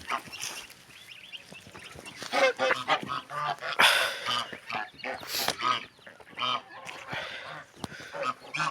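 Geese honk repeatedly at a farmyard, harsh irregular calls overlapping at close to middle distance, with faint voices now and then in the background.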